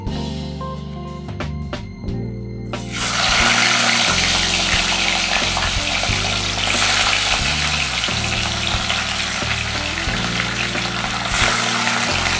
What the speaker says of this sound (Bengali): এবার মাছগুলো ছেড়ে দেব।